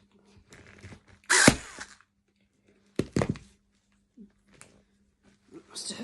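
A staple gun snaps loudly several times into fabric while a footstool is reupholstered, sharp isolated bangs spaced a second or more apart, with a person talking quietly between shots.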